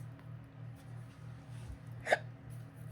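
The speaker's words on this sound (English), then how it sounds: "I got the hiccups." A single short hiccup from a person, one sharp, fairly close catch of breath over a low steady background hum.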